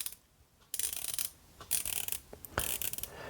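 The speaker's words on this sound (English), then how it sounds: "The bezel action, of course, sounds like this." The chunky rotating dive bezel of a Tissot Seastar Pro 2000 watch is turned, giving quiet, close ratcheting clicks in several short bursts with brief pauses between.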